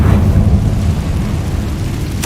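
Confringo fire spell blast in Hogwarts Legacy, a loud booming burst at the start that fades into a rumbling, thundery tail, with a sharp crackle at the very end.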